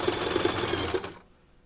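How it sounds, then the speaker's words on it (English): A sewing machine stitches fabric for a baby changing mat in one steady fast run of needle strokes that stops abruptly about a second in, leaving quiet. "Make sure you don't sew over any needles."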